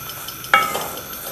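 Semolina being roasted in ghee in a pan for a khoya suji halwa over a slow flame, one short scrape of stirring over a soft steady sizzle, close and alone.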